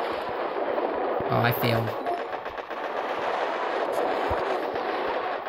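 Cannons and tanks fire during a Boom Beach battle in a steady dense barrage of booms and rattling blasts, loud and continuous, with a brief spoken remark over it.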